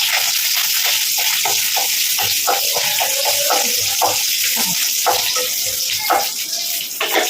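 Cashews, raisins and almonds sizzle and crackle steadily in hot ghee in a home kitchen while making aval payasam, a continuous bright frying hiss with small pops, close and fairly loud, no talking.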